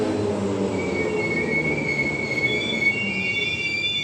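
Train arriving at night at an elevated suburban station platform, with loud, sustained high-pitched wheel squeal over a rumbling roll and faint clatter, close by and continuous.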